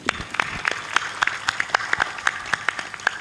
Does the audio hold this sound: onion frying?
no